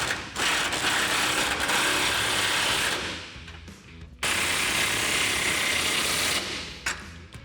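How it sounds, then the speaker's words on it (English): Ratchet wrench and 21mm socket with a 27mm wrench tightening control arm bolts on a 2021-2023 Ford F-150 with a lift kit, two quick bursts of rapid clicking ratcheting, close and alone. "we can grab a 27mm wrench for our nut side and a 21mm socket for our bolt side"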